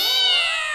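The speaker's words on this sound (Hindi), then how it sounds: "अरे ये बिल्ली तो हमारी होली की मिठाइयाँ लेकर भाग गई।" A cartoon cat lets out a single loud, drawn-out meow, high and sliding, heard clearly on its own.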